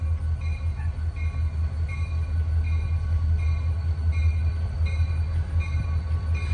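A freight train pulled by three locomotives passes on a short line railroad, with a steady, loud low engine rumble and continuous rolling noise throughout.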